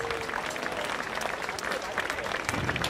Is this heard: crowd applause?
yes